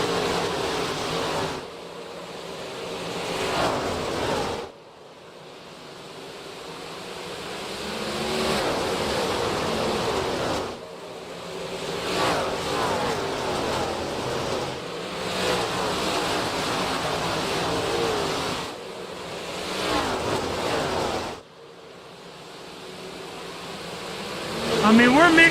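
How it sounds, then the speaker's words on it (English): Race car engines on track during a racing broadcast drone in long sustained passes that swell and cut off repeatedly, loud and fairly close, with commentary voices heard over them. "Crank it up. Let's hear the motors purr."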